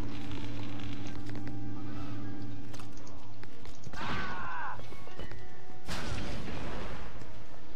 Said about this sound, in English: Figured I'd throw that grenade before I did anything.